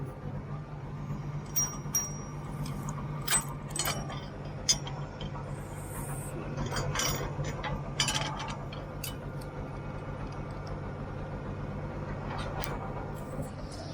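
A farm planter folding up its row units at the edge of a field after planting, with a steady low mechanical drone and scattered clanks, ratchet-like clicks and metallic knocks throughout.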